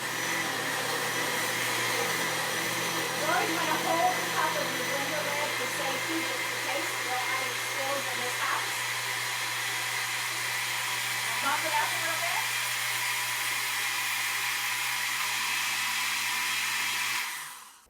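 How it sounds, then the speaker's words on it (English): A loud, steady motorized whir of a blender mixing batter continuously, with slight shifts in pitch as the contents churn, then cutting off abruptly at the end. "you're going to secure the lid to your blender"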